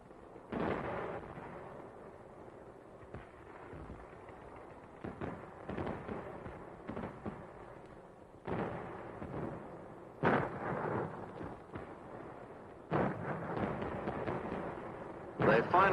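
Infantry battle on a Korean hill in winter: bursts of gunfire and heavy artillery blasts crack out at irregular intervals, some loud and close, with rumbling between the impacts.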